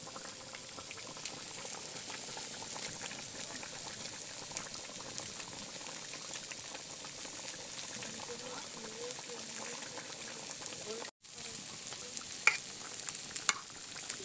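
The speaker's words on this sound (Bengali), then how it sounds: "এবারে ওপর থেকে একটু নেড়ে চেড়ে নিচ্ছি" Fish curry with coriander leaves bubbling and simmering steadily in a pot while it is stirred, a continuous close wet boil with occasional soft scrapes, briefly cut off near the end.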